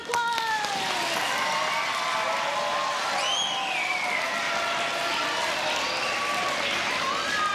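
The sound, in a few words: audience applause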